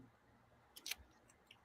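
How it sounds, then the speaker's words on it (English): Pinking shears snip through a sheet of yellow construction paper in one quick crisp burst of two or three cuts, followed by a faint later click, close and quiet with no talking. "I cut it out with pinking shears"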